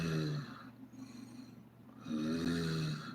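Snoring, heard as two long, rasping, droning breaths with a throaty rattle, close and moderately loud, with a quieter gap between them and no talk.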